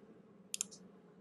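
A computer mouse clicks twice in quick succession, sharp and close, while setting up an A/B test for an opt-in sign-up form in Klaviyo, with a soft faint third tick following over a low steady background hum.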